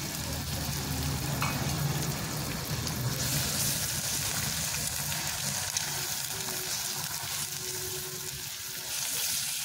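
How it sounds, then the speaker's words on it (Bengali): A cracked egg fries in a pan with lightly fried onion and capsicum, giving a dense, even sizzle close by that eases slightly toward the end, with faint stirring and no voices. "পেঁয়াজটা হালকা ভেজে নেওয়ার পর এবার একটা ফাটিয়ে রাখা ডিম আমি দিয়ে দিচ্ছি"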